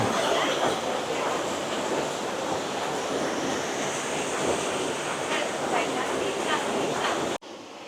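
A constant roaring rush of a mountain waterfall, loud and close, steady throughout before cutting off abruptly near the end.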